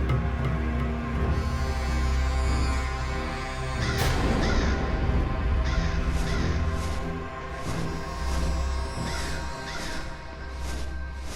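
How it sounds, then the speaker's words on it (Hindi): A crow caws repeatedly in short, harsh calls spread across the clip, moderately close above a soft outdoor background. "खोदा पहाड़ और निकला कौआ"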